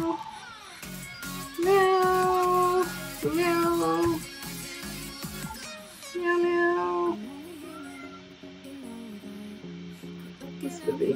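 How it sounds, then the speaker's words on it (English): A cat in The Sims meows several times in a row, with drawn-out, rising and falling cries spread across the clip and short pauses between them. A voice can be heard faintly in the background. "Meow, meow."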